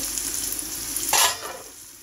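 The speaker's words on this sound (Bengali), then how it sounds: "এখন আমি পেঁয়াজ ভাজি করতেছি।" Red onions fry in a pan with a steady close sizzle, and a sharper burst of crackling comes about halfway through, likely as they are stirred. There is no talking.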